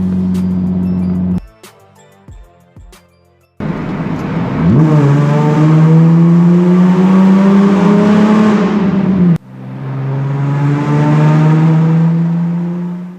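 A V6 Nissan Z car drives through a tunnel, its engine note loud and close, rising in pitch as it accelerates with a strong echoing roar, then easing off briefly before building again; no talking.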